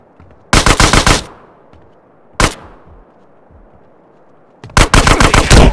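Automatic gunfire in GTA San Andreas: a loud rapid burst, a short single burst a second later, then another sustained rattling volley after a pause, each cutting off into quiet background.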